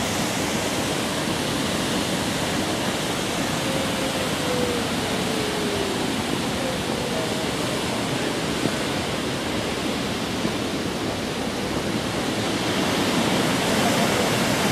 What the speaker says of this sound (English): It goes over the gorge, and the Athabasca Falls are in the background.